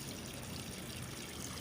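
Water trickles and splashes softly and steadily onto a potted bonsai banyan tree as it is watered, a faint continuous pour with no voices.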